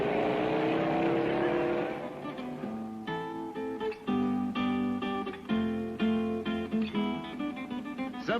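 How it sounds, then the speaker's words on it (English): Baja 1000 race cars leaving the start line in Ensenada, engines revving and droning as they pull away one after another under music with a loud rhythmic beat. "car after car leaves the line and starts the long grind to La Paz"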